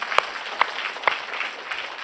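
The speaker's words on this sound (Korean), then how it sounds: "우리 박수로 하나님께 영광 돌리겠습니다" A church congregation claps during a Friday night worship service at Hwagwang Church, producing a soft, steady patter of hands with a few sharper claps standing out.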